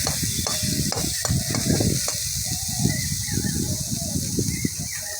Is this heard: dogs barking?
no